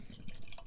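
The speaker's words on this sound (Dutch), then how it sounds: "Laten we hem inschenken." Princesse witbier is poured into a glass with a quiet, continuous gurgling and fizzing splash.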